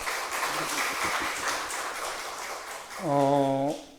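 A church congregation claps for volunteers at a Sunday service, moderate scattered clapping that fades, then a short sustained tone near the end.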